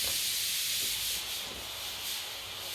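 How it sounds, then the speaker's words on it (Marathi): A pressure cooker vents steam in a kitchen, making a steady, fairly soft rushing hiss that swells slightly and does not stop, with no talking. "बघा शिट्ट्यांचा आवाज येतो आहे"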